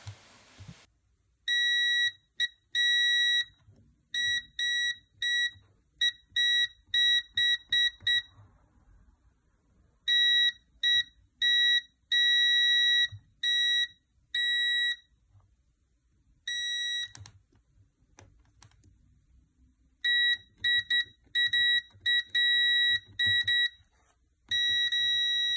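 A multimeter beeps in irregular short bursts and quick clusters during a continuity test on a gate fob, its tones clear and close over quiet handling noise.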